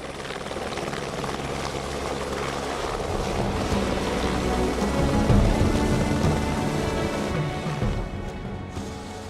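A helicopter flies near Lukla in the Khumbu valley, a steady loud rotor and engine roar that builds slightly toward the middle and holds throughout, with no voices.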